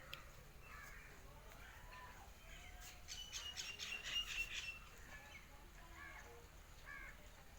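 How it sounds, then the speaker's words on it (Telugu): Birds call repeatedly, including crow-like caws and chirps, at moderate distance over steady outdoor background noise, with a burst of busier calling in the middle. "అయ్యో అరుస్తున్నాయి కదా పిట్టలు"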